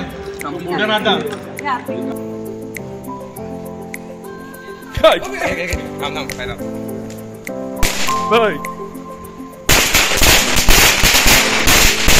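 People talk loudly near sharp cracking bangs and hissing bursts, ending in a sustained crackling roar of firecrackers going off close by.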